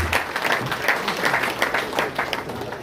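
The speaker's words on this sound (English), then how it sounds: "A round of applause for Lawyer Ovijan." Audience applause at a skill training event in Sunyani, a steady patter of many hands clapping for a couple of seconds, moderately loud and even, with a faint voice underneath.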